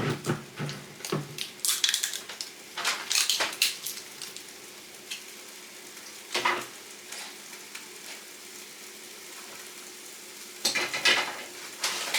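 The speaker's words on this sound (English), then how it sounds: "My omelette, tomato, cheese, spinach, and yeah, I'm just waiting on it cooking." Omelette with tomato, cheese and spinach cooking in a frying pan, a steady soft sizzle under bursts of scraping and stirring with a utensil, close by with no talk.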